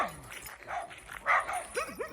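Several dogs along a village path while a stray goat is walked home, giving short barks and rising whiny yelps at close range, with a voice speaking among them.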